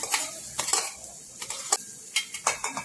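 Chopped onion and capsicum frying in hot oil for a moong dal pudla, with a soft background sizzle broken by scattered sharp clicks and scrapes of a spoon stirring in the pan.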